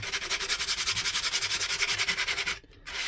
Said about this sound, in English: just sandpaper over like that